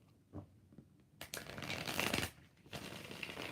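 Tarot cards are shuffled close up: a short rustle, then two riffling bursts of paper slapping and flicking against each other.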